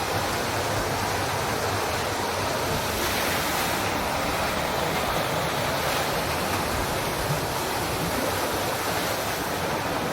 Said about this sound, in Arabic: شلالات تايلاند، شلالات تايلاند في التجمع، منظر جميل جدا.